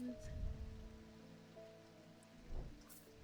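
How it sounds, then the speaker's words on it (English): Steady rain falls outdoors, a soft continuous patter with a faint low hum and a couple of brief louder rustles, no voices. "It is raining"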